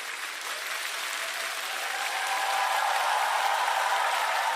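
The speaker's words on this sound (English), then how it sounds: "we're gonna give him a round of applause anyway" A studio audience claps steadily at a sustained, even level, swelling slightly louder partway through, with no voices over it.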